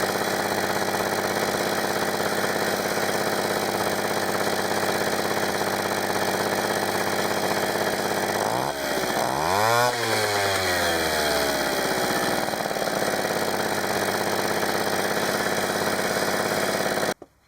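Two-stroke Yamaha YB-1 moped engine running on a steady buzzing idle, with a revving rise and fall midway before settling back, close and loud, then cut off at the end.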